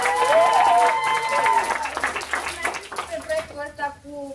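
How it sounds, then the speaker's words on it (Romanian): An audience at an evening library event breaks into applause, a dense wash of clapping under a speaker's voice, thinning out toward the end as other voices continue. "Vreau să aplaudați."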